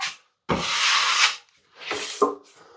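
Plastering trowel dragging plaster across a wall, three distinct scraping strokes with short pauses between them, close and clear, no voices.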